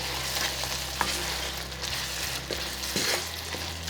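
Shrimp biriyani masala with tomato and two teaspoons of salt frying in oil while being stirred, a continuous close sizzle with occasional spoon knocks and scrapes.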